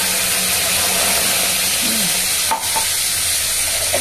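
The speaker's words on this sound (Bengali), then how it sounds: "নাড়াচাড়া করে নিয়েছি, এবারে একটু আদা বাটা দেবো" Ginger paste sizzles steadily in a hot pan over potatoes, with a spoon stirring through it and a brief scrape near the middle; close, continuous frying hiss with no voices.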